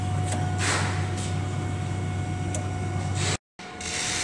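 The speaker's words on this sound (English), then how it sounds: "The diagnostic print will come out the back of the HP Pagewide printer." An HP PageWide XL large-format printer runs a diagnostic plot, giving a steady loud mechanical whir and rasping feed noise with faint periodic ticks, cut by a brief silent gap near the end.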